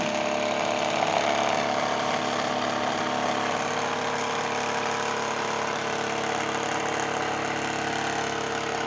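A BLHF-RM synchronous motor turning a propeller at 35 Hz gives a steady, unbroken hum and whir with a constant tone throughout, close and moderately loud, with no voices.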